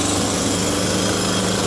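Jackhammer pounding nearby at a construction spot, a loud continuous rapid mechanical rattle that fills the whole stretch without pause.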